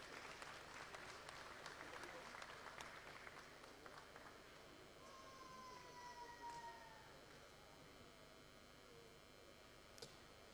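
An audience at a cheese award presentation during a Lyon gastronomy fair gives steady, faint clapping that fills the hall, fading slightly partway through, with a thin whistle-like tone drifting over it.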